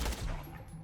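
Rapid burst of Tediore SMG fire with reflective bullets in Borderlands The Pre-Sequel, loud and dense at the start, then thinning into quieter trailing shots and ricochets.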